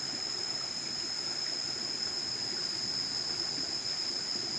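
A river flowing steadily near a small bridge on a jungle trek, a constant rushing wash of water with no break, close and fairly loud throughout.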